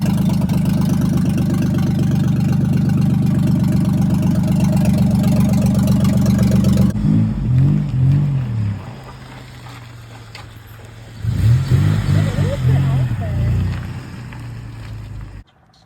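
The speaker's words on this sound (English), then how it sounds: "The exhaust, there was no exhaust, it was open headers." A Ford Mustang engine running with open headers and no exhaust roars loudly and steadily for several seconds, then drops to a lower idle broken by two shorter rev bursts.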